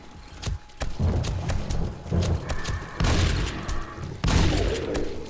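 Gunshots ring out in 7 Days to Die with the Darkness Falls mod: several loud, sharp reports spaced a second or more apart over a busy rumble of game noise and thuds.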